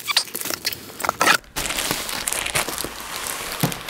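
Plastic packaging crinkles and crunches loudly up close while an ASKAR FRA400 telescope is unboxed, with a short pause midway and no talk.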